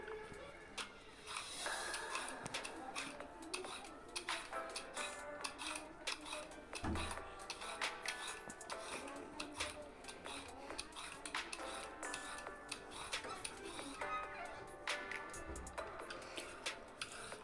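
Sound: peeling carrots one by one

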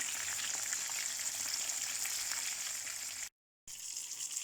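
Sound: peppers frying in oil

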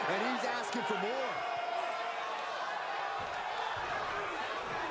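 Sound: arena crowd cheering

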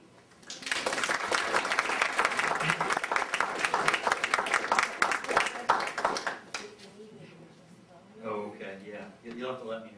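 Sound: audience applause welcoming the guest speaker

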